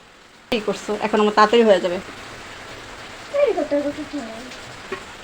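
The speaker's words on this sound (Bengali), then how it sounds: "প্রচণ্ড জোরে বৃষ্টি হচ্ছে" Heavy rain keeps up a steady background hiss while voices talk over it in two short bursts.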